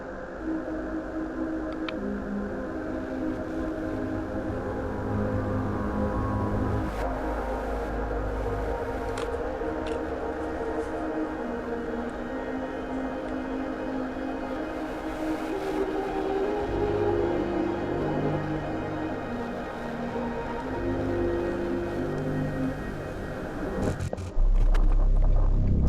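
The Hour of Joy alarm from Poppy Playtime Chapter 3, a droning, wavering siren-like sound with layered electronic tones sustaining throughout, accompanied by scattered clicks and a louder burst near the end.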